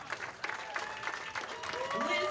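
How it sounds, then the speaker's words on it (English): Audience applause at a professional women's bowling tournament in a bowling alley, with scattered clapping and crowd noise held at a moderate level, mixed with voices and a few whistles or cheers. "let's get a huge round of applause for our 222 Finn"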